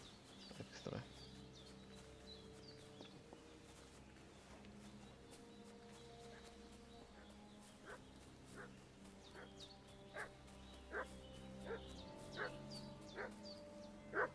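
A dog barks repeatedly in a medieval role-playing video game, short sharp yelps scattered at irregular intervals and growing more frequent toward the end, heard at moderate distance over a steady low game ambience with faint background music.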